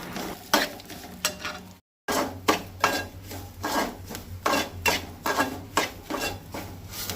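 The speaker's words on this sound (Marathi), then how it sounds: "रवो तो भाजून घेतला, पूण आतां 2 मिनटां तो तुपार मातसो फुलोवन घेता" Semolina roasting in ghee for a Goan sheera, with a spoon stirring and scraping through the grains in repeated close strokes over a soft, continuous sizzle.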